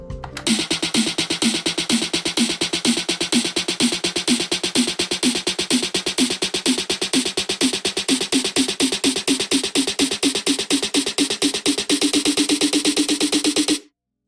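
EDM buildup snare rolls with pitch bend automation: rapid evenly spaced snare hits repeating for about fourteen seconds, the tone rising and evolving as the roll continues, ending abruptly, no voice.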